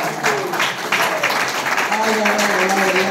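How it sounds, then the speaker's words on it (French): A crowd applauds at a political gathering of the Union Sacrée in Brussels, with clapping running continuously beneath a loud voice speaking over it. "qu'on vous applaudisse très très fort"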